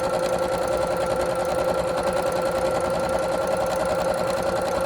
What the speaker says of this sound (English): keep that foot right up against the edge of the fabric so he sews a nice straight line